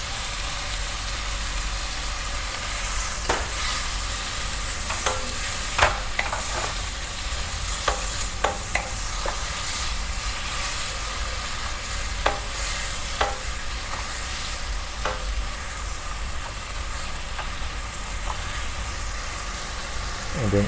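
Mirin and soy sauce sizzle steadily in a hot wok during a Cantonese-inspired stir-fry, with a constant bright hiss and scattered sharp clinks and scrapes of stirring throughout, close and continuous.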